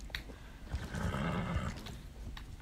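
Horses neighing in the Star Stable Online video game, a whinny rising over a bed of game ambience with light hoof sounds, moderately loud.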